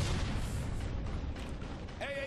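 A set demolition charge detonating in Sniper Ghost Warrior 2, a dense broadband roar of explosion and rumbling debris that fills the short span, ending with a brief tonal game sound.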